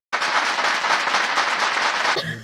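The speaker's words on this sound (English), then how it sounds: "Big applause to the guy." A crowd applause sound effect bursts in suddenly as a dense, even wash of clapping that holds for about two seconds and then cuts off.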